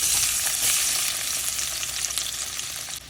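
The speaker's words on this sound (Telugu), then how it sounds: "ఇప్పుడు నూనె కాగింది, వెల్లుల్లిపాయ ముక్కలు వేస్తున్నాను" Chopped garlic hits hot oil in a pan, giving a loud, dense, continuous sizzle and crackle close by, with no talking over it.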